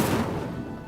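A burst of the Incendio fire spell cast in Hogwarts Legacy, a single loud, roaring blast of flame that starts sharply and fades slightly over under a second.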